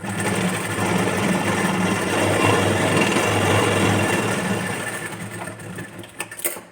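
A sewing machine stitches a princess-cut, boat-neck blouse seam right along the joint, its fast even whirr running steadily and close for several seconds before slowing and stopping.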